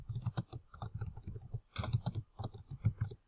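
Close, quiet typing on a computer keyboard, irregular clusters of crisp key clicks with brief pauses between bursts, no voices.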